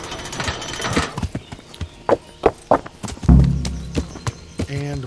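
Horse hooves clip-clopping at a walk in Kingdom Come: Deliverance, a run of distinct thuds across the clip, then a brief neigh near the end over faint game ambience.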